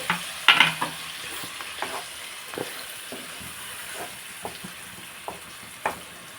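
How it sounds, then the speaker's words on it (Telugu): Onion paste and green chillies frying in a pan for fish curry, a soft background sizzle punctuated by sharp, spaced spatula scrapes and taps against the pan. "ఇదిగోండి ఉల్లిపాయ పేస్ట్ వేస్తున్నాను పచ్చిమిర్చి ఇవి బాగా ఫ్రై చేసుకున్నామండి"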